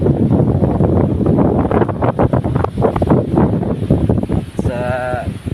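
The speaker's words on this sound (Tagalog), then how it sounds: "Lakas pa lang hangin, no?" Strong wind batters the microphone beside a riprap embankment during stormy, rainy weather, a heavy continuous roar and buffeting, with brief speech.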